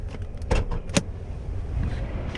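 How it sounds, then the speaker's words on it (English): The hood of an Infiniti Q60 Red Sport is popped open. A couple of sharp latch clicks and clunks sound close by against a low, steady background hum. "Let's pop open the hood on the Red Sport."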